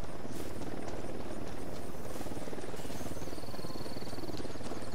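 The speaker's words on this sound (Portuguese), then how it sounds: "O helicóptero é muito mais rápido." A helicopter in Ghost Recon Wildlands whirs in a steady, dense rotor drone that runs through the whole stretch, fairly loud and alone, with no talk over it.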